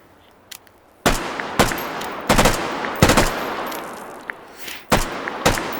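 FAMAS rifle in Hot Dogs, Horseshoes and Hand Grenades fired in separate loud, sharp shots and short bursts with metallic ringing tails, close up, spaced by brief pauses after a quiet start.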